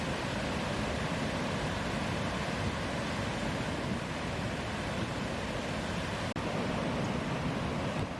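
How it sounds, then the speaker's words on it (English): Aysgarth Falls, a triple flight of waterfalls set in woodland and farmland in the Yorkshire Dales, gives a constant broadband roar of falling water, steady and close, with no talking. "The Asgarth Falls are actually a triple flight of waterfalls surrounded by woodland and farmland."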